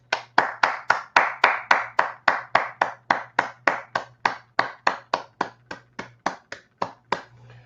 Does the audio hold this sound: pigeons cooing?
no